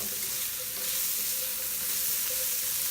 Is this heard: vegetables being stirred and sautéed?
yes